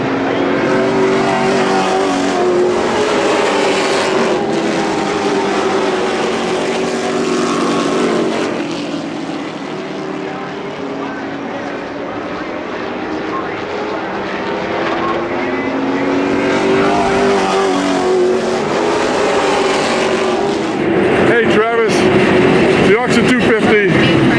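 Race car engines roar continuously around the track at the Oxford 250, rising and falling as cars pass, loud and sustained throughout.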